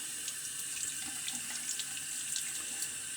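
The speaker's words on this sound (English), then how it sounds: "Rinse that good." Water runs steadily from a bathroom faucet into a sink as a razor is rinsed after a shave, a continuous close hiss with small splashy fluctuations.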